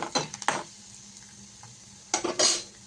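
Ingredients for a drumstick leaf dish sautéed in sesame oil in a hot pan, two bursts of spoon scraping and clattering against the pan with a faint sizzle in between, close and without talk.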